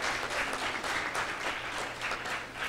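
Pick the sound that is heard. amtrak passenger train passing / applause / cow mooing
applause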